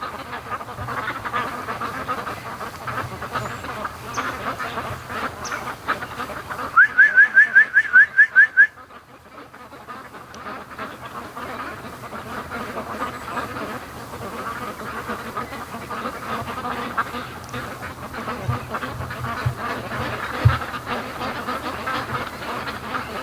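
Ducks swimming down a swamp creek toward home give a distant, continuous murmur of calls. A sharp trilling whistle from a person calling them rises above it for about two seconds early on, then the quieter flock noise carries on alone.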